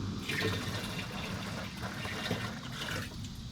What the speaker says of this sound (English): Belly is filled on the unicorn sprayer.